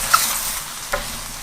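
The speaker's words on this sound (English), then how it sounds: "we want to get all of the tomato paste and that garlic mixed in nicely" Tomato paste, garlic and browning mushrooms sizzle steadily in a hot pan, with a close, continuous frying hiss broken by a couple of quick stirring scrapes.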